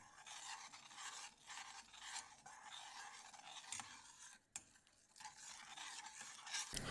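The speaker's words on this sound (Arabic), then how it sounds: "نخلينه على النار وننتظر عليه حتى يغلي معانا ونستمر بالتقليب" Hot chocolate in a pot on the stove is stirred steadily, a soft rhythmic scraping and swishing with faint sizzling, close and quiet, with no voices.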